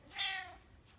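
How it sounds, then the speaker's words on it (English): A domestic cat lets out a single short, clear meow at close range, followed by near silence, with no talking. "so that Sid the cat can have his afternoon nap on Max's favorite sofa"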